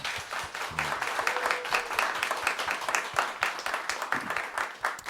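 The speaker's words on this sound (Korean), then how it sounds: "이분들에게 다시 한번 큰 박수 부탁드리겠습니다" Audience applause for a band at a Catholic praise concert, a moderate crowd clapping steadily with scattered sharp claps standing out, fairly close and even throughout, with faint low murmurs underneath.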